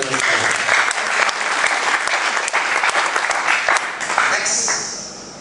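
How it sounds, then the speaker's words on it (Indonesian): A church congregation breaks into loud, sustained applause, dense clapping and cheering filling the room throughout, tapering slightly at the end. "Tepuk tangan yang paling meriah."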